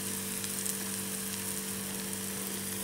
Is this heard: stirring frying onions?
yes